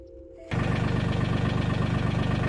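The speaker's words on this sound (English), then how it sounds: "forgive me for the tractor noise" A Mahindra tractor backhoe's diesel engine suddenly roars up after a quieter idle and keeps running loud and close with a steady rapid knocking pulse.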